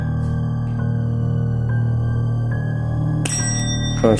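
A small bell rings with a sustained metallic shimmer, then is struck again sharply near the end, close and clear.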